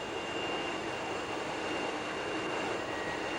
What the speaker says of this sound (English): the snazzy Magister jet trainer